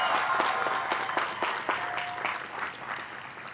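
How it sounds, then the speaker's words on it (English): A commencement ceremony crowd at Cal Poly Pomona's Collins College claps steadily, individual claps standing out at first before the applause gradually thins and fades. "So let's give them a round of applause."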